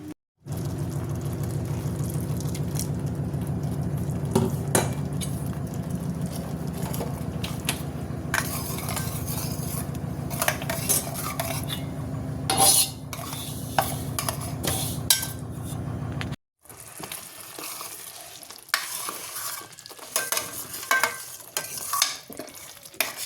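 A masala of onion paste, tomato and green chilli paste fries in oil for a Kaju Paneer Masala, sizzling steadily with repeated close stirring and scraping, then dropping to quieter scrapes and clinks.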